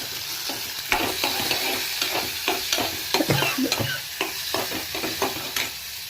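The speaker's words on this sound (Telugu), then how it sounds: "ఈ పోపు వేగాక ఇందులో సన్నగా తరిగిన ఉల్లిపాయ పచ్చిమిరపకాయ ముక్కలు వేయడం జరిగింది" Steady sizzling of chopped onion and green chili frying in hot oil, with repeated scraping stirs at an irregular rhythm, close and fairly loud, no talking.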